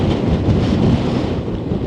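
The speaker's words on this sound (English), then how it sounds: "It's getting very windy." Strong, steady wind buffets the microphone on a Lexmoto AP1 motorcycle test ride, a dense continuous roar with no voices, loud and close throughout.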